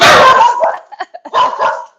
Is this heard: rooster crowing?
no